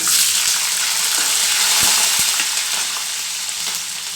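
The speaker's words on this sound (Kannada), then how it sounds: "ಕಡಲೆಕಾಯಿ ಬೀಜ ಇದೆಲ್ಲ ಸ್ವಲ್ಪ ಫ್ರೈ ಆಗಬೇಕು" Peanuts and green chillies fry in a hot pan, giving a steady, close sizzle with a couple of sharp stirring knocks partway through and no voices.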